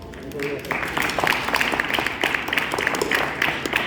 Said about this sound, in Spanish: Silvia Georgina Duarte, a quien le damos un aplauso.